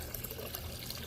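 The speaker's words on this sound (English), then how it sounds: "I have started the pumping process." Water pumped through a Rinnai V65 tankless water heater during service, a steady, continuous rush and trickle of flowing liquid at low level, with no talk.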